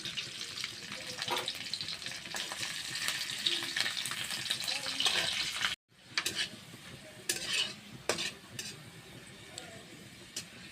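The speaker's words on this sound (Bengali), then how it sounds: "রসুনের কোয়া দিচ্ছি, দুটা শুকনো লঙ্কা" Garlic cloves and dried red chillies fry in hot oil with a steady close sizzle, broken briefly by a pause, then resuming with scattered clinks and stirring.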